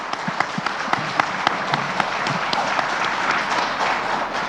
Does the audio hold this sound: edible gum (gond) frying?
no